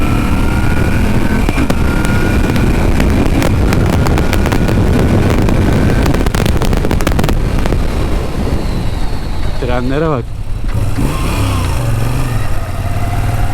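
A Moto Guzzi V7 III Carbon motorcycle rides along with a loud, steady engine drone and wind rush, crackling bursts partway through, then a brief whining pitch change; someone speaks briefly near the end.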